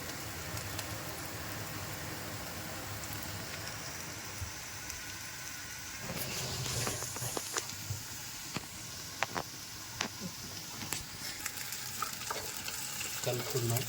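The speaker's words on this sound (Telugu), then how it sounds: "ఫ్రై అయిన ఆనియన్, పచ్చిమిరకాయ మూకుడిలోకి మనం జింజర్, వెల్లుల్లి పేస్ట్ వేసుకుందాం." Ginger garlic paste added to onions and green chillies frying in a pan, with a continuous hiss and sizzle, louder and busier midway as the mixture is stirred, scraped and clicked with a utensil.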